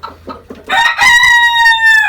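A Sebright rooster crows loudly and up close in one long, sustained call, preceded by a few short, soft clucks from chickens.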